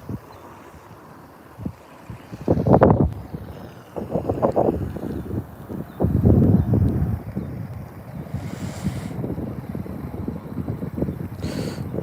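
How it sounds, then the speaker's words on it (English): Gusting wind blows outdoors at a fishing spot, rushing in loud surges and buffeting the microphone, with rumbling low noise and brief lulls between strong bursts. "Yes, wind blow harder, wind."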